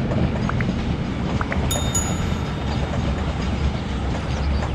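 A double-decker freight train rolls along a railway line in India, a loud continuous rumble with clattering wheels and brief high squeals, no speech.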